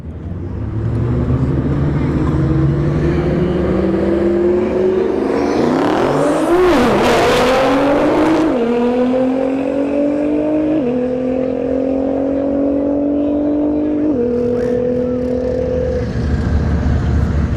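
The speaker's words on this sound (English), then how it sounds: "Nissan GTR in the left lane, New Edge Cobra on the right lane." In a roll race at a Florida drag strip, a Nissan GTR and a New Edge Ford Mustang Cobra roar side by side, engine notes climbing sharply in pitch, then stepping through several upshifts, loud and close with no talking.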